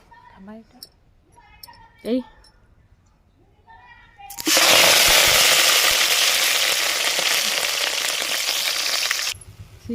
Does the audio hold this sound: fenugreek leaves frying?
yes